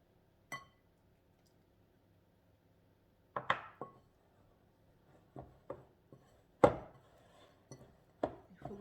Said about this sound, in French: Il faut bien travailler la pâte.